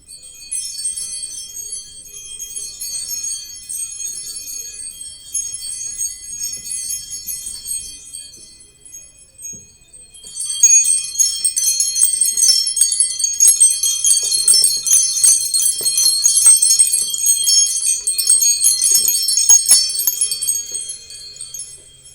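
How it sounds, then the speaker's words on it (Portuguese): Bells ring in sustained, shimmering peals with bright high overtones, quieter at first, then swelling louder and denser after a short lull; no voices. "Soem os sinos"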